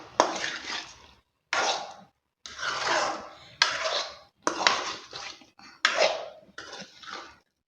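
Snakehead murrel fish pieces being mixed by hand with masala in a bowl: about seven short, wet rubbing and squelching bursts in a steady rhythm, each separated by brief pauses.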